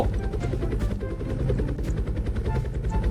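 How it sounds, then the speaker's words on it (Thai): A helicopter in the Roblox game Dusty Trip chops and drones continuously in a dense, rhythmic rotor pulse, fairly close and steady, with no talk. "เฮลิคอปเตอร์ชักกระตุก"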